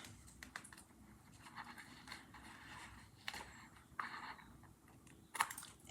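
Paper is trimmed on a journal spread with soft, close scratchy snips and rustles, a few sharper cuts standing out against quiet room tone.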